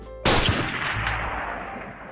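A single sharp gunshot in an animated Squid Game parody with One Piece characters: one loud, close crack that bursts suddenly and then fades into a long, rumbling tail, with no voices.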